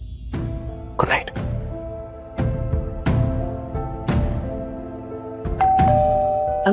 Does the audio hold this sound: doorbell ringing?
yes